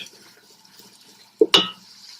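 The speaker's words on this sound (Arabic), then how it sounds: "نحط العدسات ونحط شي 6 كاسات مي" Lentils and water pour into a soup pot, a pair of close, sharp splash-and-clink bursts standing out against a quiet kitchen background.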